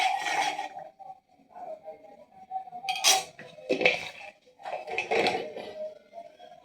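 A spiced mixture of cumin powder and other spices is sautéed in a pan, with a spoon scraping and clinking against the metal in irregular bursts, close up and moderately loud.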